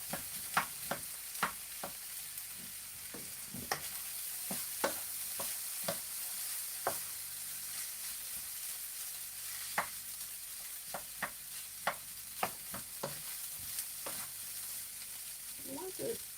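Spoon stirring and loosening fried rice in a hot pan, a soft continuous sizzle punctuated by irregular sharp scraping taps of the spoon against the pan, close by with no talking.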